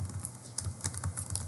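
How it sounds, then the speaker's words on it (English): Rapid clicking keystrokes on a computer keyboard while someone enters text in Word 2019, a steady run of close, light taps with no voices. "Here I'm going to type"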